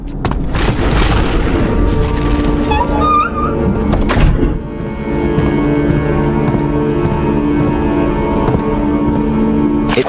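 Cannon fire during a siege in the video game Amnesia: Baxter's Memoirs, heavy booms and thunks within a loud, continuous rumbling din, with one sharp impact near the start and another around four seconds in.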